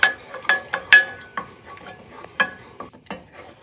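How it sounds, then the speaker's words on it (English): A spoon stirs macaroni and cheese sauce in a pot, with a series of close, uneven scraping and clinking strokes against the metal, no voices. "you just keep stirring it until the cheese is nicely melted and make a fluffy, creamy cheese sauce"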